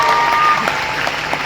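An audience at a creative workshop in Indonesia claps steadily, a dense, even patter of many hands held at constant loudness throughout a short burst.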